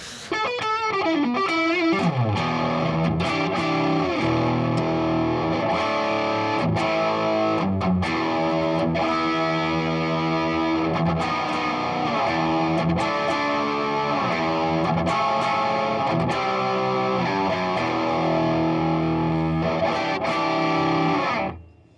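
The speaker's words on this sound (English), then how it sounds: "That is probably the best Les Paul style guitar I think I've ever played." A distorted Les Paul style electric guitar plays continuously with heavy effects, chords and riffs ringing out loud and close for the whole stretch, with no voices.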